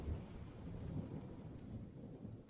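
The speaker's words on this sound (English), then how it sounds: "There's a storm coming, you know." Low, rolling thunder from an approaching storm rumbles steadily throughout, deep and somewhat distant, with no talk over it.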